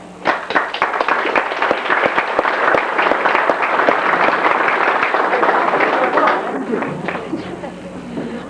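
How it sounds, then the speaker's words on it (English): Sustained applause from a crowd at a school basketball banquet, many hands clapping densely and steadily for several seconds before tapering slightly near the end. "you all deserve a round of applause"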